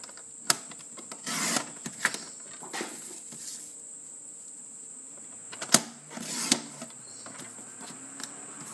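Scissors trimming the border off a coloured paper picture: a few crisp snips and rustles up close, spaced out, over a faint steady high tone, with no talking.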